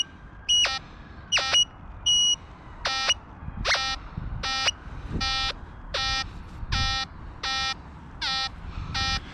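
A Nexus metal detector sweeps over an iron nail, sounding a series of about a dozen electronic tone bursts, each roughly half a second long, with high and low pitches alternating at a steady rhythm over faint background handling noise.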